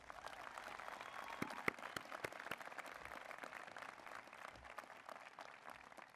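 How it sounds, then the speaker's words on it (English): An audience at a university presidential inauguration at Radford applauds, a dense wash of many hands clapping steadily at a distance, fairly faint and with no voices over it. "Give my kids a round of applause"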